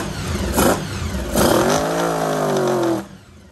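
A motorcycle fires up right after carburetor work and runs rough. It gives two short revving bursts, then settles into an uneven, wavering idle with a falling pitch. The engine is close by and cuts off near the end, and there is no talk.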